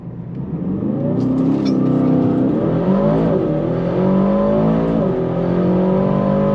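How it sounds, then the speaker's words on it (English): Aston Martin DBX 707 SUV doing a launch start, the engine rising in a loud, close, sustained roar as it accelerates hard, pitch climbing through gear changes with no talk. "Let's try to do a launch on the DBX here."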